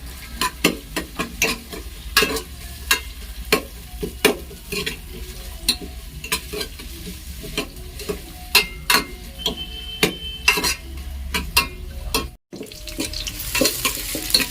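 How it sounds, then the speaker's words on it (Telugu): Onions frying in a pan for chicken dum biryani, with a frequent rhythmic clack and scrape of a stirring spoon over a low sizzle, close and fairly loud, without speech. "మంచి ఆనియన్స్ని మంచిగా గోల్డెన్ కలర్లోకి వచ్చేలాగా ఫ్రై చేసుకోవాలి"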